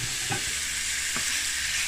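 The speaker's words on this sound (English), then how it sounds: "And you want to saute this a little bit." Pepper and vegetables sauté in a hot pan for Jamaican-style steamed cabbage, a close, even hiss of frying with two soft stirring scrapes over a brief moment.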